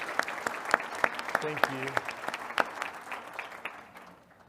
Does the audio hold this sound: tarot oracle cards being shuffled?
no